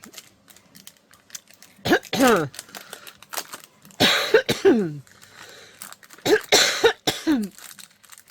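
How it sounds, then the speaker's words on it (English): Several harsh coughing fits, each a burst of two or three coughs, separated by quieter pauses with faint background noise. "I apologize for the coughing."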